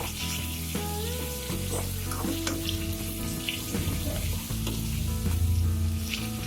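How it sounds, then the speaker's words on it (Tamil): A spoonful of ginger garlic paste sizzles with partly fried onions in oil while being stirred. A loud, constant crackle carries scraping stirring sounds, and background music plays beneath. "வெங்காயம் ஓரளவு பொரிஞ்சதும் இது கூட 1 ஸ்பூன் இஞ்சி பூண்டு பேஸ்ட் சேர்த்துக்கோங்க."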